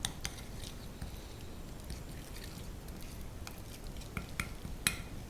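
A large spoonful of ras el hanout being stirred into a lamb couscous sauce in a pot, heard as quiet, continuous scraping with scattered light clinks of the spoon against the pot.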